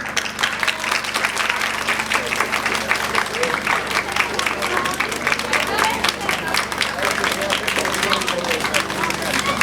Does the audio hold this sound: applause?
yes